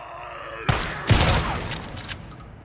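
A shotgun fires in the post-apocalyptic video game Days Gone: two heavy, close blasts, the second louder, each trailing a short rumbling decay.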